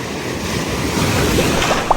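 Waves wash onto a beach in a steady broadband rush with slight surges, heard close and alone over a short stretch, with some wind buffeting on the microphone.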